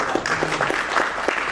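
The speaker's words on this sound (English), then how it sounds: "Round of applause." A lecture audience claps briefly at a live spoken-word event, a short burst of scattered applause heard close.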